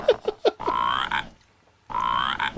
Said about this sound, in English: Do you hear the frog?